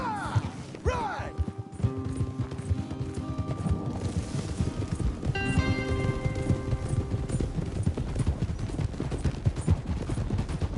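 Horses galloping in the Red Dead Redemption 2 video game, a steady run of hoofbeats under a musical score, with characters talking briefly.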